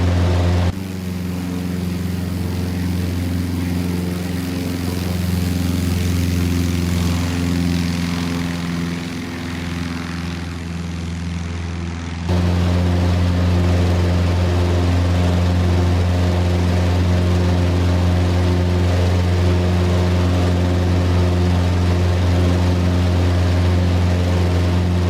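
A general aviation propeller aircraft in X-Plane 12 is hand flown just after rotating at 60 knots. Its steady, loud engine and propeller drone holds an even pitch throughout, and the tone thickens partway through.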